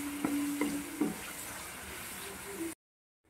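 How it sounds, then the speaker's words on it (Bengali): Ginger sizzles and fries steadily in a pan, a continuous crackling hiss broken by a few stirring clicks near the start, with no talking. "1 চামচ, 2 চামচ আদাটাকেও ভালো করে ভেজে নেব, যাতে আদার গন্ধটা চলে যায়।"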